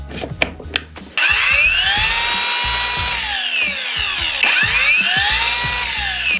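A few light knocks, then a GRAND cordless circular saw spins up to a steady high-pitched whine, dips slightly, and revs again, loud and close.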